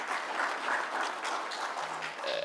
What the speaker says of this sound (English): can we clap hands for them as well